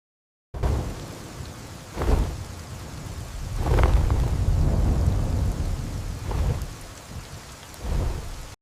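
Heavy rain falls while deep thunder rumbles roll in several times, loud and booming over the constant downpour.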